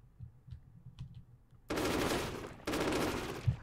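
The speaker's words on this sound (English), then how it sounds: "I shot him." Two long bursts of automatic gunfire from the video game Call to Arms, loud and close, each running about a second after a few faint thumps, with a sharper shot near the end.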